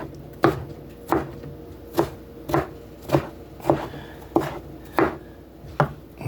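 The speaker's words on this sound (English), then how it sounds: "I'm just gonna go and chop all this up so it's in smaller pieces" A knife chops eggplant on a cutting board with eight steady, evenly spaced thuds about once every 0.7 seconds, close and clear with no talking.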